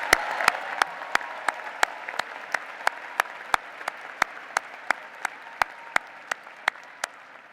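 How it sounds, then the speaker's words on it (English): Steady applause from a crowd at a Virginia Tech university commencement greets graduating candidates from the College of Agriculture and Life Sciences, with sharp regular clap-like beats standing out above the continuous wash. "Let's applaud these candidates from the College of Agriculture and Life Sciences"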